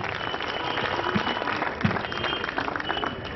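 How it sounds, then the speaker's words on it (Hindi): Loud applause from a crowd at the opening of a Sai Gold India gold showroom in Kullu, a steady dense wash of clapping that carries on through the whole moment without a break. "जोरदार तालियां हो जाएं"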